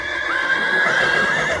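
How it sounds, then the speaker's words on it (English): Horses whinny and neigh up close over a steady clip-clop of hooves, loud and continuous with no talking. "Icarus whipped the horses to make them go faster."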